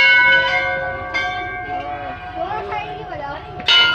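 Temple bells ringing at Golu Devta temple near Nainital, Uttarakhand, the famous bell temple: several metallic bell strikes with long ringing tones, one after another, close and fairly loud amid voices.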